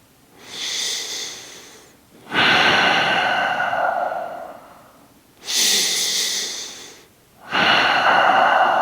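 Slow, deep breaths drawn in and let out through the nose during a guided breathing exercise: four long, close, airy breaths with short pauses between them and no talking.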